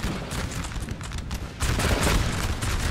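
Musket volleys from line infantry in a Napoleon Total War battle at Austerlitz, a rolling crackle of overlapping shots that swells into a denser, louder burst halfway through.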